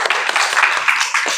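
Applause from a classroom of students, a dense burst of many hands clapping steadily and fairly close throughout.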